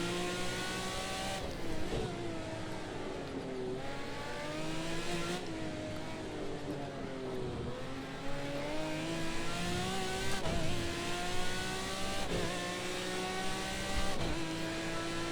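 McLaren F1 Long Tail GT1 race car lapping Sugo in Project CARS 2, engine note rising through the gears and dropping sharply on each shift, with repeated upshifts and downshifts, loud and continuous without any talk.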